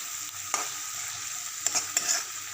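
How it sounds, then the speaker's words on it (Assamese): Onion, garlic and chili paste frying in oil for a mutton dish, a soft continuous sizzle with a few sharp spatula taps and scrapes against the pan. "পিঁয়াজ, নহৰু, সেই জলকীয়াৰ পেষ্টটো অলপ সময় ভাজি লওঁ এনেকৈ।"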